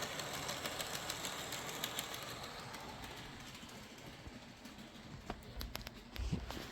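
An Athearn SDP40 model locomotive's motor running at 45% throttle: a steady, faint, even whir with light clicking toward the end and no talking.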